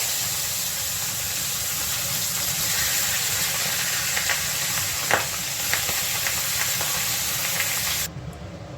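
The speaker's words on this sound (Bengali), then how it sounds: "সব মাছগুলোকে আমি এইভাবে ভেজে নেব" Fish pieces frying in hot oil in a pan for a curry-leaf fish curry, a steady loud sizzle with occasional pops and crackles throughout, cutting off abruptly near the end.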